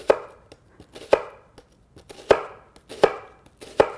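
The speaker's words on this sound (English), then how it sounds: "Just hold it like this and go in and slice the onions." A knife slices through onions with the root end left intact, giving five or six sharp, close chopping strikes on a cutting board at an irregular pace, with quiet pauses between them and no talk.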